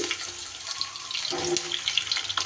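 Pointed gourds (potol) frying in hot white oil give a close, continuous hissing sizzle with light crackles.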